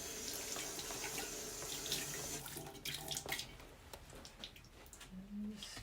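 Heat-sensitive barbecue gloves are rinsed under a running kitchen tap, the water pouring steadily and faintly with splashy, shifting patches as the hands move through the stream.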